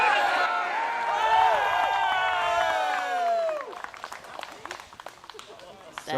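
A crowd at a women's pro disc golf tournament, the MVP Open, cheers with rising whoops and shouts, then breaks into scattered, fading clapping.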